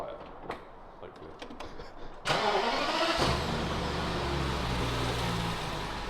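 A large Rolls-Royce Phantom engine cranks and catches, then settles into a low, steady idle after a few quiet clicks and rustles.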